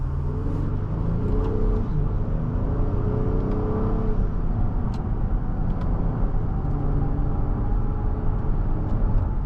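A 2023 Acura MDX Advance SUV with a 10-speed automatic accelerates, heard from inside the cabin as a steady, loud engine drone with rising tones and no talk.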